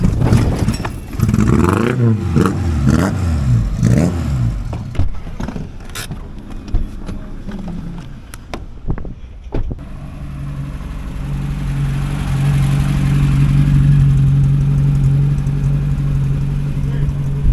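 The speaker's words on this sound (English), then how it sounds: "Clutch in and rev it as soon as you can." A car engine revving with the clutch in, rising and falling revs at first under voices, then a loud steady droning engine settling into a sustained hum.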